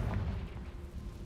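Confringo blasting spell from Hogwarts Legacy going off as a short, muffled blast with a low rumble that tails off quickly, fairly quiet overall.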